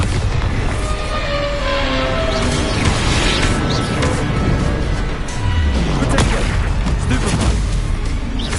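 Bombarda explosion spell in Hogwarts Legacy, a loud, dense blast and crashing rumble filling a busy battle mix of magical effects and impacts.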